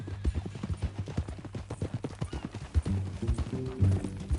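Horse hooves clip-clop at a steady walking rhythm in the Western open-world game Red Dead Redemption 2, close and clear, with low rumbling game ambience and occasional faint horse snorts underneath.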